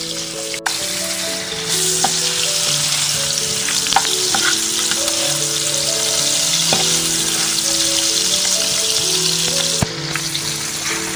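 Prawns fry in a pan with tomato ketchup for Goan prawn chops, making a loud, steady sizzle with occasional stirring scrapes close up, and no talking.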